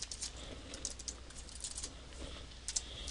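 Fingers type steadily on a computer keyboard, a quiet, close run of light, uneven key clicks with brief pauses, over a low background hum and no talking.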